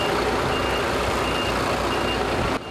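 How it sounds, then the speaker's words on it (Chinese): A large truck reverses at a pickled mustard-greens plant in Dapi, Taiwan, its backup alarm beeping steadily over a loud diesel rumble until the sound drops away near the end. "会当看到大货车载着一车搁一车的挂菜到腌制场"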